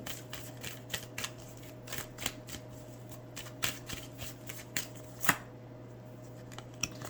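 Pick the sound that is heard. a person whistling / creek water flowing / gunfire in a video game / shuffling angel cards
shuffling angel cards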